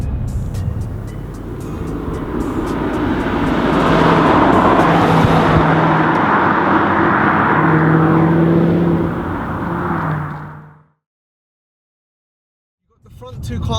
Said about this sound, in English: the way a naturally aspirated V8 sounds